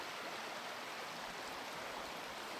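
River water flowing during a red stag hunt, a steady hissing rush of a stream or small rapids, constant and moderately distant with no voices.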